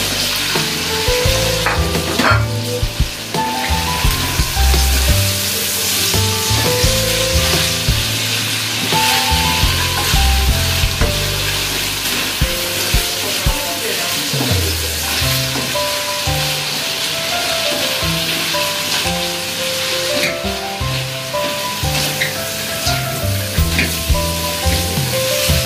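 Carrots sizzling steadily in a frying pan while being stirred, a loud continuous crackle with intermittent scraping strokes of the utensil against the pan, no voices.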